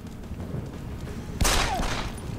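A single loud burst of gunfire from a new gun in the video game Deus Ex Human Revolution, with a sharp crack and brief decay, over a low background hum.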